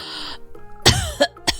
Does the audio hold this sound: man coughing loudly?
yes